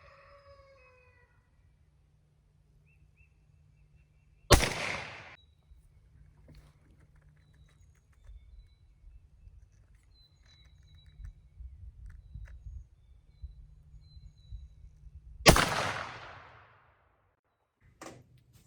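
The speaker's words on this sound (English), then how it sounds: "Shooting the BBs now, and we'll go through that." A shotgun fires BB turkey loads outdoors at a range, two sharp loud blasts about eleven seconds apart, each with a short fading tail, against a quiet low hum.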